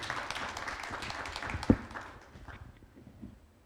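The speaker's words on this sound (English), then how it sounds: "So we have a round of applause." Symposium attendees give a round of applause, a burst of mixed clapping from the room that peaks with one sharp clap and then tapers off to near silence.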